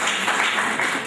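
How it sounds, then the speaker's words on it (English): An audience at a valedictory event breaks into applause, a dense, steady wash of clapping that fills the whole short moment with no voices. "We should give a big applause to them."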